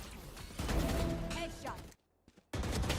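Video game gunfire comes in dense rapid bursts, cuts off into a short near-silence and then resumes abruptly. A game voice line is mixed in with the shots.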